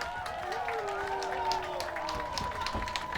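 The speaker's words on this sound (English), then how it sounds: "big applause by the crowd" Crowd at a championship football game applauding and cheering as an injured player hobbles off the field, a steady wash of clapping with a commentator talking over it.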